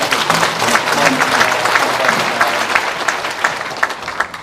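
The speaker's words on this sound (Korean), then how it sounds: "우리 찬양단들을 위해서 감사의 박수 한번 드리겠습니다." A church congregation at a Korean revival meeting gives the worship team a warm round of applause, a dense, fairly loud burst of clapping lasting several seconds before it thins at the end.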